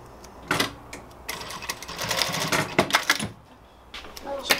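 Sewing machine tacking a loop onto a leather sandal, with several quick bursts of close mechanical stitching rattle separated by short pauses, a voice speaking faintly among them.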